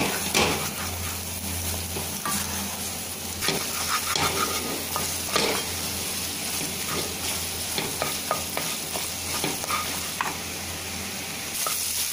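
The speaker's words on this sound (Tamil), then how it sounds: "முட்டையை உடச்சி நல்லா கலந்து விட்டுருங்க" Beaten egg fries in a pan for egg fried rice, a constant moderate sizzle with frequent scraping and stirring clatter from a spoon, close by and without talk.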